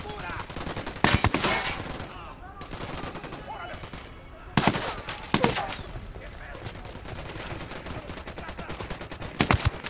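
Gunfire rips through a firefight in the video game Ghost Recon Wildlands, several loud bursts of automatic fire and single shots punctuating a steady ambient bed, with talk mixed in.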